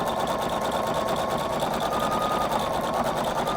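A Husqvarna Viking Designer Brilliance 80 sewing machine runs steadily, stitching a tapered appliqué satin stitch with a fast, even mechanical whir and rapid needle chatter, close and continuous throughout.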